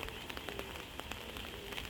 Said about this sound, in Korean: 지금 비가 와요.